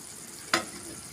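Boiled eggs in masala gravy turned over in a pan, a soft steady simmering sizzle with one brief scraping clack of the spatula midway.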